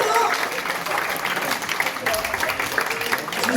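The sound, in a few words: applause for gold medal recipient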